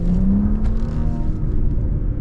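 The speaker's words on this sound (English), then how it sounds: "This engine's kind of fun. Sounds pretty good." A 2026 Audi SQ5 engine revs up and settles into a steady, throaty hum, close and fairly loud, with no talking.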